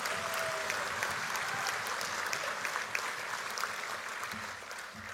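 Applause from delegates at the UMNO general assembly marking 30 years of UMNO Sabah, a continuous, fairly soft wash of clapping heard from a distance in a large hall.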